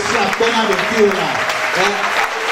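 A church congregation in Togo applauds steadily, its dense clapping running underneath a voice speaking the whole time.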